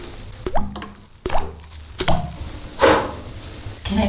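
Several ice cubes plop one after another into a foamy bubble bath, each landing as a short, wet splashy drop with gaps between, close and moderately loud with no talking.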